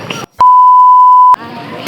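A single loud, pure censor beep holds a steady tone for about a second, cutting sharply into conversation with talk just before and after it.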